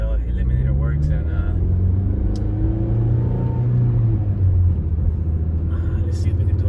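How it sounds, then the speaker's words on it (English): A 9th gen Honda Civic with a test pipe accelerating hard in second gear, its loud engine and exhaust rising in pitch from close inside the car, with a voice talking over the pull. "let's see if we can do a little pull right here in second gear. Get that VTEC engagement going on. It's actually pretty loud."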